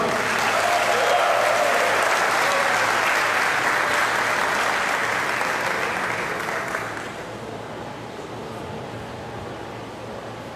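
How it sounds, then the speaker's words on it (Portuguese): A rally crowd at a pro-democracy solidarity event applauds warmly, a broad steady wash of clapping that holds for about seven seconds before thinning and fading to a quieter murmur. "Vamos saudar com a salva calorosa de palmas do companheiro Haroldo Lima."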